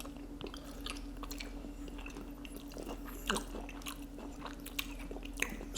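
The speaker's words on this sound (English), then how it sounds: "Those greens, they still have a crunch to them." Someone crunches through mouthfuls of blanched fresh arugula greens, with close, crisp bites and chewing over a steady low background hum.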